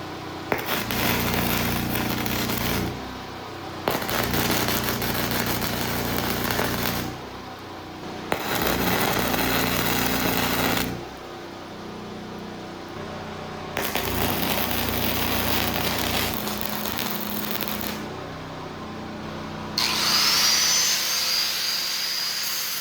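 Arc welding with a YesWelder welder, done without a welding table, gives loud continuous crackling bursts of several seconds each, separated by short pauses, close up with no talking.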